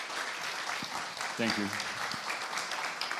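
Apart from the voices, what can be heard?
audience applause at a panel discussion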